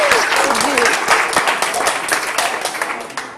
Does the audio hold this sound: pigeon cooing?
no